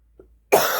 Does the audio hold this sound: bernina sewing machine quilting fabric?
no